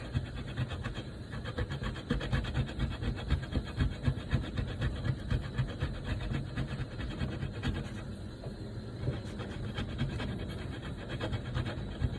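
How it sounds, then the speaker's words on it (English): A block of cheese is grated by hand in a kitchen, the strokes giving a steady rhythmic scraping rasp, close and moderately loud, without talk. "Let's go ahead and finish grating this cheese"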